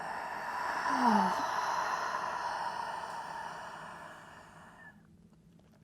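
A long, loud exhale during slow yoga breathing, a single broad breathy rush that holds steady for about four seconds and then fades away into quiet.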